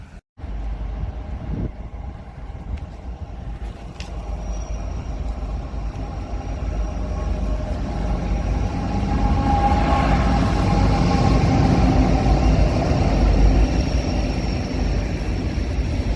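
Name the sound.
freight train passing by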